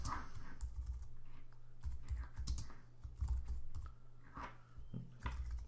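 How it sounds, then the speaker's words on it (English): Fast, irregular typing on a computer keyboard comes in close, clattering bursts of keystrokes with brief pauses between them. "Can't type today, let me just correct that."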